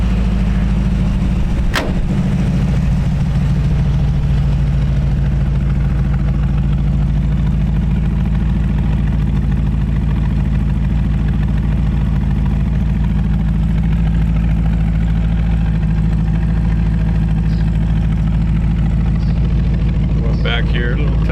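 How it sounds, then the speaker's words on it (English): A 1932 Ford three-window coupe with a 302 V8 idles with a deep, steady rumble close by. A sharp throttle blip comes early, then a long even idle follows, with faint clicks near the end. "Step out here and give it a little gas so you can hear it."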